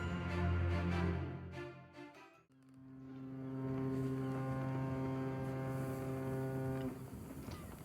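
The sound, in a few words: boat noise in the Hercule Poirot video game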